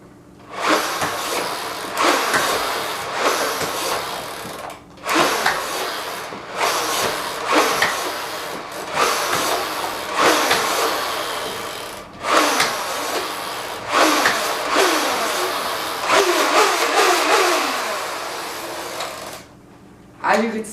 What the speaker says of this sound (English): I'll be shooting 10 darts, which is what this blaster holds.